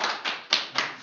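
A small group claps in applause during a classroom discussion session, with several short, bright bursts of clapping in quick succession, close and fairly loud, with no talking over it.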